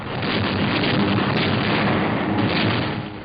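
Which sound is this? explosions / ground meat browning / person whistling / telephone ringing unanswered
explosions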